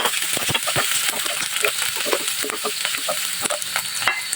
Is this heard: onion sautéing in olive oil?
yes